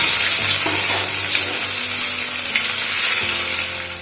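Crushed ginger, dried red chillies, cumin seeds and bay leaves fry in mustard oil in a wok, producing a loud, dense, continuous sizzle close by with a faint low hum beneath.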